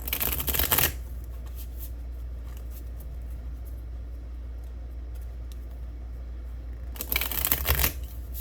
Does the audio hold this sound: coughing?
no